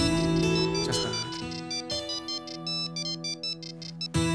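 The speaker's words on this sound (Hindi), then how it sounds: "मम्मी का फोन।" A mobile phone ringtone plays loud and close as a bright, repeating melodic tune with steady beeping notes, alone for about four seconds.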